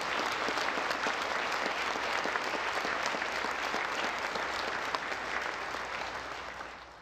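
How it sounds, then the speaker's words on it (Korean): Warm applause at a national prayer breakfast, a large audience clapping in a continuous, even roar that tapers off slightly at the end. "같이 한번 뜨거운 박수로 같이 했습니다."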